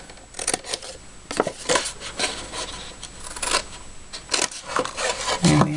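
Scissors snip away the flaps on scored card for a hexagon gift box, giving a series of close, crisp cuts in uneven rhythm with light rustling of the card between them.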